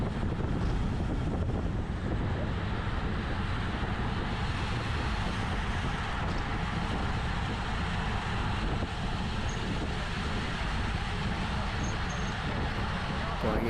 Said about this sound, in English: So this is the headwind section